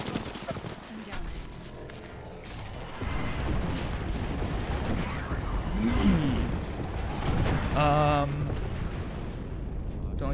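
Airstrike bombardment in Apex Legends, a run of heavy rumbling blasts and booming explosions building over several seconds, with a voice talking over it.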